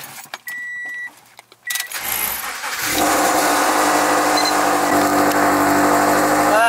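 A BMW car engine starting after sitting unused for two months: a few electronic chimes, then the engine cranks and catches at about two seconds and settles into a loud, steady idle.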